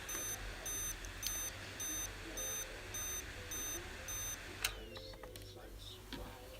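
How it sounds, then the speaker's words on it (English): A desktop PC beeps in a steady repeating pattern of evenly spaced electronic tones during a RAM upgrade attempt, close and clear over a low hum, stopping partway as a clatter follows. "maybe I have to leave this PC beeping for a while."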